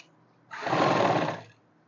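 A sewing machine runs a single continuous burst of about one second, laying a thick, loose basting stitch along a folded edge of a simple plate-style kurti. It is close and fairly loud, with quiet before and after.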